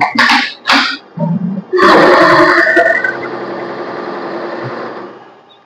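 A Pallus embroidery machine stitching a blouse design, starting with several short bursts of rapid needle clatter and then settling into a long, loud, continuous run that fades slowly at the end.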